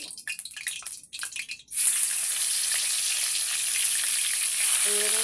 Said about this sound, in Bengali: এইরকম করে বাদ বাকি মাছগুলো সব আমি যে ভেজে নিব